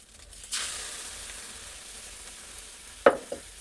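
Spiced egg pulao mixture being stirred in a hot pan, a steady soft sizzle with a brighter hiss rising partway through and a sharp utensil scrape near the end, no talking.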